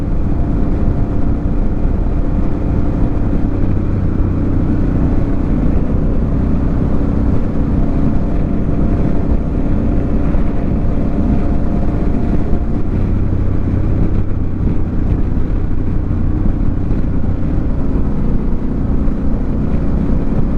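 Harley-Davidson Pan America Special motorcycle riding on a road, a constant loud engine drone mixed with rushing wind noise, steady and unbroken throughout with no talking.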